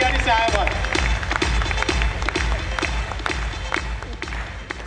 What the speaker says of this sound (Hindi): एक बार जोरदार तालियां डिंगरा साहब के लिए